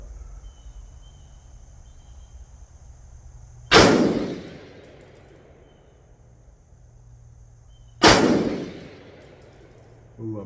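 A CMMG BR4 rifle fires two single shots several seconds apart, each a sharp, loud crack that rings and decays outdoors over a quiet background hum.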